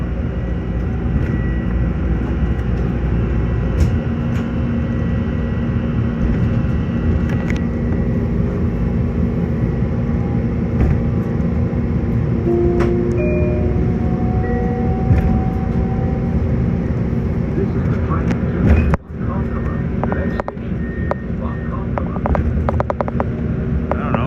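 An LIRR commuter train rides noisily, giving a loud, continuous rumble of wheels and car body with rattles, clanks and squeals, and a sharp jolt near the end.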